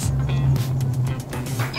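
A car driving onto a frozen lake for ice fishing, a low steady engine drone heard from inside the vehicle with some rattling and tire noise, while a person talks.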